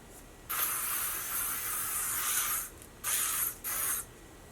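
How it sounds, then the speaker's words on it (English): A Living Proof Frizz Instant Defrizzer aerosol hair spray hisses in one long burst, then two shorter bursts follow after brief pauses, close and fairly loud. "So I spray this in."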